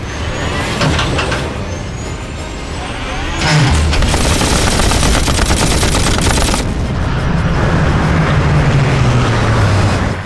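Weapons firing in a Hollywood horror movie set beneath the ice, a dense, loud barrage of rapid gunshots and heavy blasts mixed with roaring engine-like rumble that swells partway through and stays intense.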